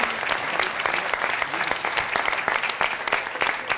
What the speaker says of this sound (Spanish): Que suene fuerte ese aplauso.